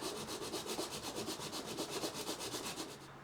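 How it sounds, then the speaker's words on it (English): Close, steady back-and-forth sanding of a guitar nut on a sanding block, a rhythmic rasping scrape repeating quickly and evenly for a few seconds with no voices. "I can just seat the top of the nut in the sanding block and just kind of sand it back and forth"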